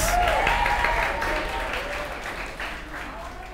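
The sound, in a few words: congregation applauding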